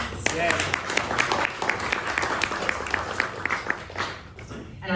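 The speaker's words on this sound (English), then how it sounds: "I just hope we can all give them another round of applause." Audience at a bookstore author event applauding, a steady round of clapping with distinct hand claps that tapers off near the end, with some faint voices mixed in.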